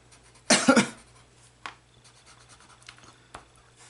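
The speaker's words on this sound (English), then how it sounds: "but this cough is going nowhere" A single harsh chesty cough from someone with a bad chest cold, loud and close, followed by faint scratching and small handling noises in a quiet room.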